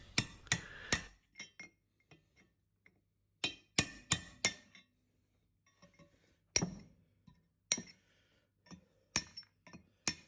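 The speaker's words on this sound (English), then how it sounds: "I'll now separate the two pieces with a hammer and chisel." A hammer drives a chisel to split two pieces of metal in a home workshop. The strikes ring as sharp, fairly quiet clinks in irregular clusters, separated by stretches of silence.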